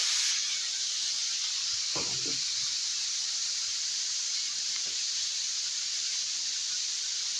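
Carrots hitting a hot grill give a steady, close, fairly loud hiss and sizzle that holds for the whole stretch, with a couple of brief soft knocks or clatters partway through and no talking.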